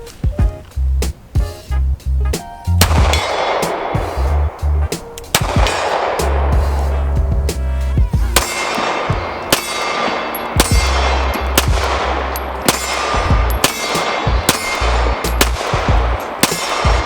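CZ P-10 C pistol firing outdoors, a series of loud sharp shots, first in a rapid cluster and then spaced steadily, each with a ringing echoing tail.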